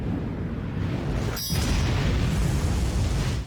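A UFO exploding in a film, a sudden burst cutting through a loud, steady rumbling roar that carries on after the blast.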